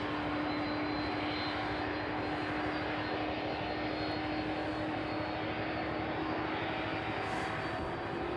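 Ilyushin Il-76 jet engines run steadily at East Midlands Airport, a loud, continuous broadband roar with a sustained tonal whine, holding constant throughout with no voices.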